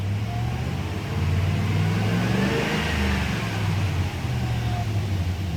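A 2001 Dodge Dakota engine in a repair setting after a crankshaft position sensor replacement, idling and then gently revved, the engine note rising and holding briefly before easing back to idle.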